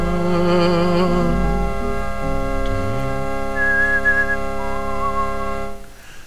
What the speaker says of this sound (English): Ah, the good old Sierra fanfare.